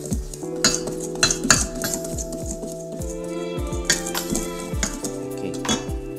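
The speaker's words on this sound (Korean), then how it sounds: "가루 재료들을 다 골고루 섞어주도록 할게요" Utensil scraping and clinking against a mixing bowl as powdered dry ingredients and white sugar are stirred together for a stout beer cake, with repeated rhythmic strokes and close, bright metallic taps.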